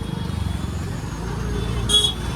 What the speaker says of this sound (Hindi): इधर तो फुल ट्रैफिक मिलता है